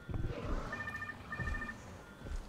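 Inside a swallowing dinosaur in Jurassic World Evolution 2, a phone rings in two short electronic bursts, faint and muffled over low rumbling game ambience.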